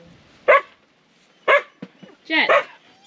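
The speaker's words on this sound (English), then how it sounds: "due to dog barking noises, we're going to cut the fermenting session here" A dog barks three times, with a short yip between the second and third, loud and close, separated by brief silences.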